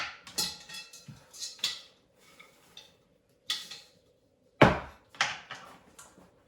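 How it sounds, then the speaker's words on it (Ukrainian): Sporadic knife taps and scrapes against a cutting board while slicing bell pepper into strips, close by, irregular and light with brief quiet gaps and one sharper knock. "нарізаю вже перчик соломкою"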